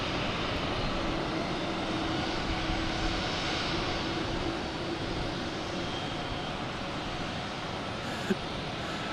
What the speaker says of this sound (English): Right next to arrive is United Airlines. It's 737 MAX 8 coming in from Newark.